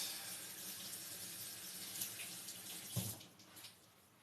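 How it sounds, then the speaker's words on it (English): Water runs steadily from a kitchen tap as peppers are rinsed, a close, continuous hiss with a brief splash and clatter near the end, no talking over it. "I'm just going to rinse them fast."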